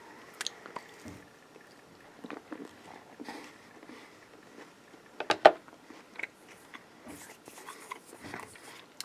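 Someone chews a Soldier Fuel Bar from an MRE, a very chewy bar with a waxy coating. The close, faint mouth sounds come as soft wet squishes and bites, scattered irregularly, with a slightly louder burst partway through.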